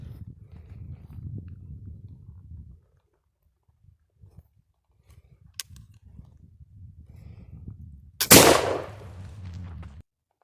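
A single black powder firearm firing a slug at a target: one sharp, loud blast late in the clip with a lingering rumble, after quieter rustling and handling noise.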